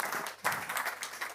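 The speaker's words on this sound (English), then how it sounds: "let us applaud" An audience claps at the grand opening of the Nevis Mango and Food Festival, a brief, dense patter of hands that swells slightly partway through.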